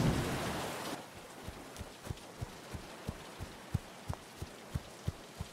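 Rain falls in an animated cartoon, a brief burst of hissing downpour that gives way to faint steady patter punctuated by regular soft drip-like thumps.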